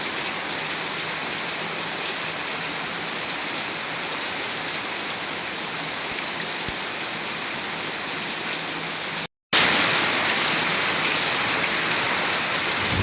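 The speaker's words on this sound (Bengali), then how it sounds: "কিন্তু খুব জোর বৃষ্টি হইতেছে।" Heavy rain pours down at night in a dense, steady roar that stays loud from start to finish, broken only by a momentary cutout near the end.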